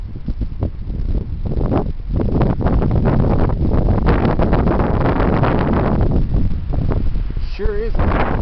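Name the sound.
heavy wind blowing outdoors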